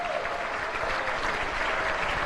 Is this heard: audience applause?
yes